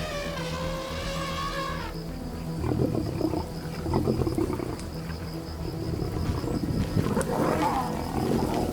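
A lion pride attacks young calves in the savanna, with deep roaring and growling over a steady background of insects and wild ambience.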